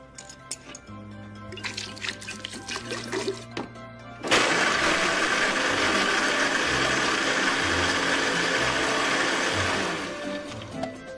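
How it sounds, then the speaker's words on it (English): A blender kicks on midway and whirs loudly and steadily, blending nuts, honey and water into homemade milk, then winds down near the end after some earlier handling noises. "Did you get that blender?"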